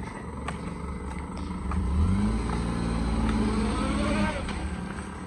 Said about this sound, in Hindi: गाड़ी आ रही है ऊपर से।